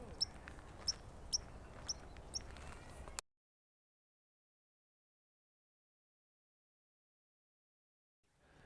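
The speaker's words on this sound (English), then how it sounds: "we got a chirp" A bird chirps in a lakeside park in Lakeside, California, giving a few thin, sharp, evenly spaced calls over quiet outdoor ambience before the sound cuts to silence.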